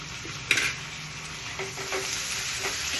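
Onion and tomato frying in oil in a pan, a continuous low sizzle opening with a sharp clink of the spoon, then a few scraping stirs, close up with no talking.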